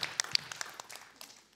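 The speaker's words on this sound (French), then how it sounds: "vous méritez vraiment des applaudissements" Applause from an audience at a student theatre evening at CY Cergy Paris Université, a short, faint patter of scattered hand claps that quickly thins out and fades.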